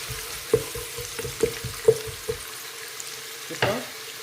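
Food is sautéed in a pan with soft intermittent stirring scrapes and light sizzling, then a brief louder clatter near the end.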